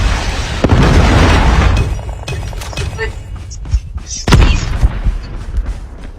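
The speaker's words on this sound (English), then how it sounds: "Friendly Predator missile inbound." A Predator missile strikes in a video game shooter, a loud broadband boom near the start followed by a second heavy burst midway, with rumbling debris and faint voices underneath.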